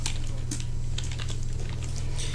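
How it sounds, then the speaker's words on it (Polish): Keyboard typing during a Terraria game session, a dense run of quick clicky keystrokes close up over a steady low hum, no talking. "Nie jestem w stanie tym razem ukrywać klawiatury, tak jak to robię zwykle."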